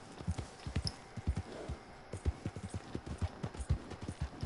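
Horse hooves clip-clop at a steady trotting rhythm in Red Dead Redemption 2, riding out from Emerald Ranch, the hoofbeats close and evenly spaced across a faint ambient bed.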